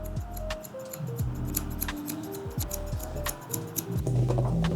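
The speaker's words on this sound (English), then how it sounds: "I'll pull it towards the back and point cut." Scissors point-cutting hair in a beginner haircut, a quick series of crisp, close snips with a steady rhythm, accompanied by a musical background throughout.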